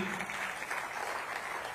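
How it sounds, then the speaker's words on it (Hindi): Audience applause at a public event with Uttar Pradesh Police's cyber awareness campaign, greeting actor Nana Patekar: a steady, dense wash of clapping from a crowd, continuous and moderately distant, with no voices over it. "पद्मश्री नाना पाटेकर जी, बहुत तालियां बजनी चाहिए"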